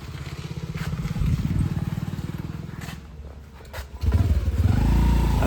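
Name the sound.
vehicle engine revving with accelerator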